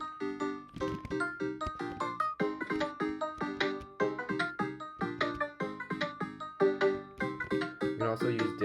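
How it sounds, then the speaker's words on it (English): Minecraft redstone note blocks play a tune, a quick, bouncy run of plucked, tinny notes in a steady rhythm, close and alone. "So altogether it sounds like this."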